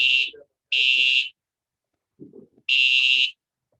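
A loud fire alarm sounds in three sharp electronic bursts, with faint voices murmuring in the gaps between them.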